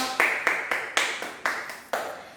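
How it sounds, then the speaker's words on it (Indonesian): A handful of sharp, evenly spaced claps ring out, each with a short echo, sounding like a small group clapping in rhythm. "Beri tepuk tangan untuk kalian semua."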